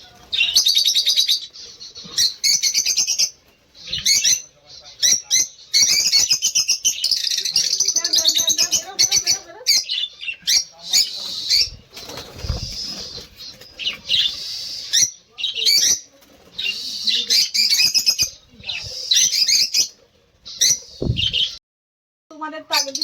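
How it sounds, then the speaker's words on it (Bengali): A flock of many pet budgerigars of assorted colours chirps and squawks continuously at close range, a dense busy chatter with short pauses and no talking. "এখন আমরা দেখো অনেকগুলো বদ্রি পাখি আবার এনেছি।"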